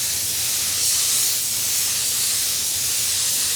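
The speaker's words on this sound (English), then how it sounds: "Pretty much using any gun for my wet bed, you just want it to go on there uniform and evenly." Spray gun applying a wet bed coat of metallic paint to a car panel, a steady close hiss of atomized spray that continues without a break and without talk.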